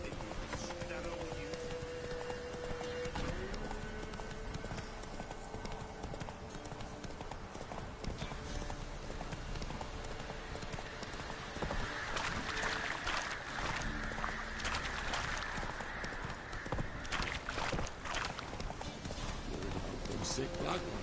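A horse gallops in The Witcher 3, steady clip-clop hoofbeats running continuously under a man's spoken dialogue and background game music.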